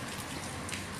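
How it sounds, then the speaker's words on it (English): Rain falls outdoors as a dense, steady patter and hiss of drops across the whole short stretch. It is moderately loud, with no voices. "So I don't know where the rain just came from."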